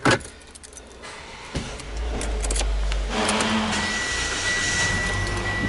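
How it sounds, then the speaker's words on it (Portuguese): Mitsubishi ASX rental car starting up, with a sharp key jangle and click followed by the engine catching and settling into a steady, close idle hum that continues to the end. "Mitsubishi ASX em funcionamento."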